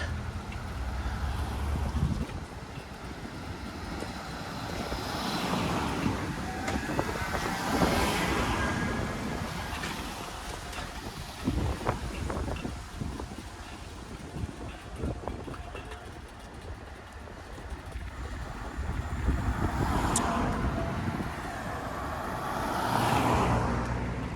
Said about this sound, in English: It's rush hour now, maybe 5:45 p.m., so fair amount of car traffic, even though this is a fairly quiet residential street here.